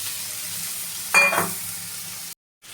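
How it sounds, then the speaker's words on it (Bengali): Fried fish pieces dropped into a masala of chilli powder and spices for a coconut-milk malaikari, a steady sizzle with one brief louder burst and clatter of the fish going in, then a sudden cut. "এবার ভেজে রাখা মাছগুলোকে দিয়ে দেবো।"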